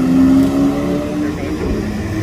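A new Porsche GT3 sports car downshifts in a Monaco parking area, giving a short, loud engine burst with a falling rev note that fades over about two seconds.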